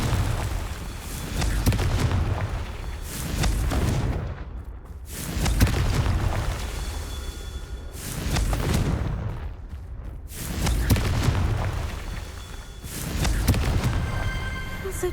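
Repeated Confringo blasting spell explosions in Hogwarts Legacy during a Merlin trial in a rune symbol chamber: about five heavy booming bursts at regular intervals, each swelling and fading into a rumbling tail.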